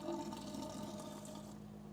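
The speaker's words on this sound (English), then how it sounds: "the 3/4 of an ounce of gelatin water mixture." Gelatin and water mixture poured into an open beer keg while brewing a West Coast IPA, a steady close liquid pouring and trickling sound for about two seconds, with no talking.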